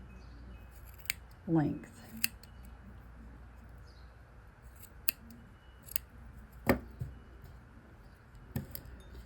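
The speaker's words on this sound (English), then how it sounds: "I'm going to trim that so they're the same" Scissors trim yarn earrings in a quiet room, giving several crisp separate snips spaced a second or more apart, with a person speaking briefly.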